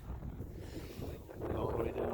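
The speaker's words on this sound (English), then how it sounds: "Sorry about the wind." Wind buffets a microphone outdoors with a low, rumbling roar that swells and gusts over about two seconds.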